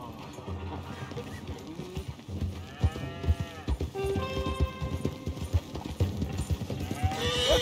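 In the Red Dead Redemption 2 video game, a horse's hooves clop in a steady walking rhythm near a wagon, with cattle lowing and a horse whinnying around it while characters talk.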